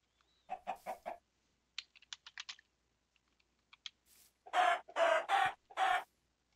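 Chickens in the Minecraft video game cluck in short, clipped bursts, first a quick run of clucks and later a louder cluster near the end, mixed with sparse keyboard clicking and no speech.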